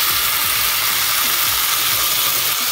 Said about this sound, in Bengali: এবার আমরা এর মধ্যে অল্প করে জল দিয়ে দেবো